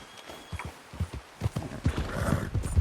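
A horse's hooves clip-clop in Red Dead Redemption II, a steady rhythmic walking beat of close, distinct hoof strikes with a brief whinny-like sound near the end.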